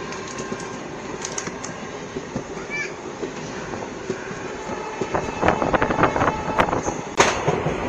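Dooars Express intercity train (15767 to Alipurduar Junction) rolling along at dusk, a steady rumbling clatter of wheels on rails throughout, growing louder with sharp rhythmic clanks in the final seconds, heard from inside the carriage.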